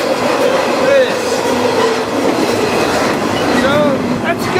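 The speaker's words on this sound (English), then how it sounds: "This train is major priority." A long freight train rolls past close by on a journey toward Lincoln, Nebraska, with loud steady clickety-clack of rail cars and occasional faint wheel squeals, no voices.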